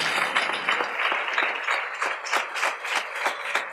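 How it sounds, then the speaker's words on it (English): A lecture audience rises for a standing ovation, with a moderate, fairly distant patter of clapping whose uneven bursts swell and fade across the few seconds. "let's have second standing ovation for Essa Faal with a rousing applause."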